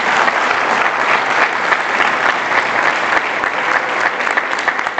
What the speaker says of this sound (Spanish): Dale un aplauso al Señor entonces